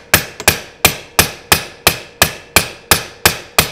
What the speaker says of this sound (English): Now you're going to use a wooden mallet or a rubber mallet or a hard plastic mallet.